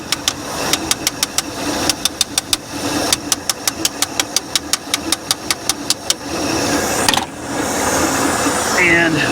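A 1982 Ford F150 engine runs with a rapid, even ticking pulse for about six seconds, then settles into a steadier, rougher idle close by. No one speaks.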